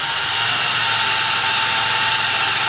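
Toyota Tacoma engine running in the bay with the power steering pump turning, a steady close whine and hum over a low idle rumble, continuous and unchanging, no talking.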